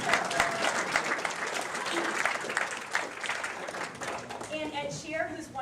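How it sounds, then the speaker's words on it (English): An audience at a Boston Team in Training kickoff event applauds in a steady, dense wash of clapping lasting several seconds, with a voice speaking over it toward the end. "I'm going to clap for him anyway."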